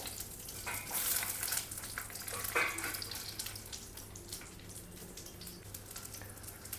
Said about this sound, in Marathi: आता वांग परतून घेऊया आपण या तेलावरती